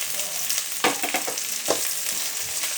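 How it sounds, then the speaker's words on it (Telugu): Onions frying in a pan for tomato bath, with a steady close sizzle and a few louder stirring scrapes of a spoon against the pan, no voices. "ఫ్రై చేసుకోవాలి. చూడండి సౌండ్ చూడండి ఎలా వస్తుందో."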